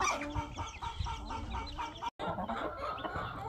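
Backyard hens and a mother hen with her chick in the United States clucking continuously, a busy layered stream of short rhythmic clucks close by with a brief gap partway through.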